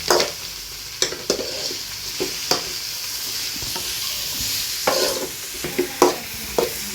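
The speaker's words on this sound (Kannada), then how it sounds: "ಇದನ್ನು ಫ್ರೈ ಮಾಡಿ ಇದು ಹಾಕಬೇಕು ಫುಲ್ ಮಿಕ್ಸ್ ಮಾಡ್ಕೊಳ್ಳಿ" Cabbage palya stirred and fried in a pan, with a steady sizzle under a series of sharp spatula scrapes and knocks against the pan, close and alone.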